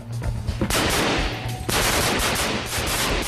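Soldiers fire live rounds inside a shoot house, dense rapid gunfire in overlapping bursts that echo loudly, with a brief lull before another sustained volley.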